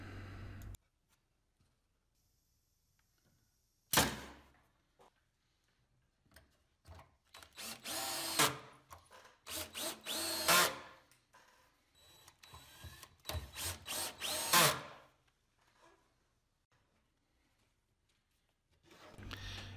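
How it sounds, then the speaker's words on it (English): A cordless power drill drives pocket screws into wood while building a shelf, producing several loud close whirring bursts of varying length separated by quiet pauses. "The nails will hold it temporarily until I can get the pocket screws in."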